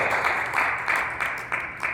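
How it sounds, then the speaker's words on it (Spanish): A church congregation claps during a sermon, a brief burst of applause with irregular surges in a reverberant hall. "Denle un aplauso fuerte a Cristo en esta hora."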